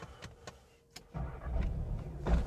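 A VW Jetta GLI engine cranks and catches after a few faint clicks, then settles into a loud, steady rumbling idle that grows slightly near the end.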